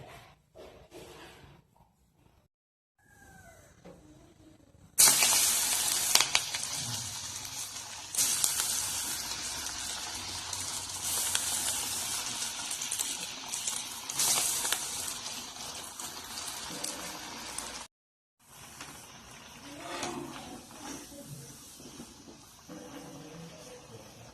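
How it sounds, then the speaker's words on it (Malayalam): Chickpea vada (kadalavada) batches deep-frying in hot oil, a loud, dense hiss and bubbling that starts abruptly, holds steady for about thirteen seconds, then drops away to quieter kitchen noise. "ഇനി നമുക്ക് അങ്ങനെ എല്ലാം ഫ്രൈ ചെയ്തെടുക്കാം"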